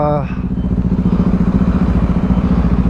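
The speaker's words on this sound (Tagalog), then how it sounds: "So guys, binuksan na namin yung motor" A Yamaha NMAX 155 scooter engine runs close by with a steady, rapid pulsing putter at idle, loud and continuous.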